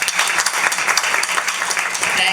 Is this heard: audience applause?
yes